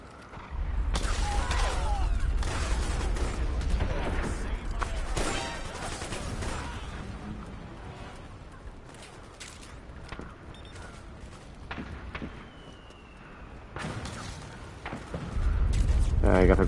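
Gunshots ring out in Metal Gear Solid 4, bursts of loud cracks and booms at the start and end with scattered shots between, mixed with a voice speaking over the action.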